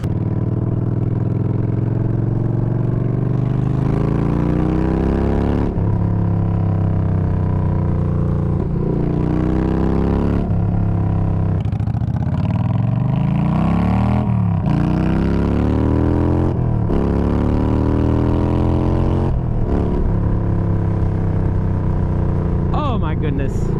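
A Yamaha Bolt motorcycle with its Bassani exhaust baffles removed rides along, its loud, rough engine note rising and falling through repeated gear changes, close and continuous throughout.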